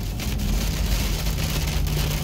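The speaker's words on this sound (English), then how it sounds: "This is pretty good rain." Heavy winter-storm rain pours down steadily, a dense continuous hiss of drops with a low rumbling undertone, loud and close throughout.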